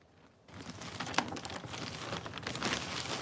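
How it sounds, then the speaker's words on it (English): Close, crisp crinkling of a plastic bag, rustling irregularly after a quiet start. "Ignore the plastic bag sound."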